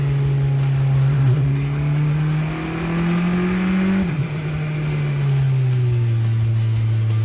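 Formula 4 race car engine heard onboard, a steady loud drone that climbs in pitch under acceleration, dips briefly around a gear change or corner, then holds again, with no voices.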